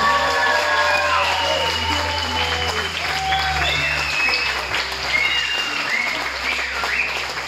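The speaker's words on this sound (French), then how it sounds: "un peu les applaudissements bien fort" Sustained applause from a sizable crowd of wedding guests in Normandy fills the space, loud and steady throughout, with a few cheers mixed in.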